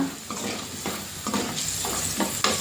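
Ingredients for gongura chutney fry in a pan with steady sizzling, broken by several brief stirring scrapes spread across a couple of seconds; no voices are heard.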